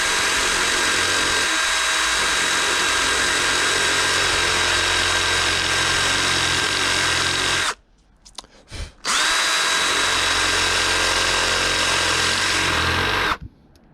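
Power drill cutting small divots into a 160mm (6 in) glider part to seat eyelets, a loud steady whine running for about eight seconds, a brief stop with small clicks, then a second long steady run.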